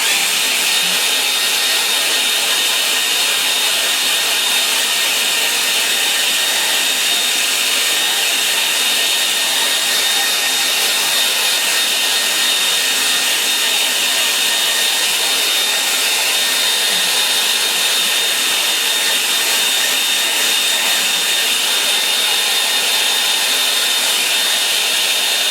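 Hair dryer blowing over a watercolour painting, a loud, constant, close hiss-like whoosh of air that runs unbroken throughout with no talk.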